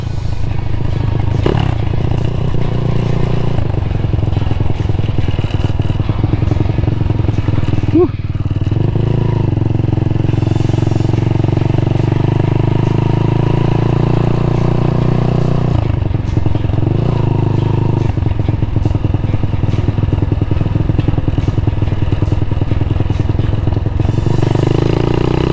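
A Honda Monkey motorcycle with a standard exhaust idles and revs steadily up close, a smooth, mellow engine note running continuously, with a brief dip around the middle.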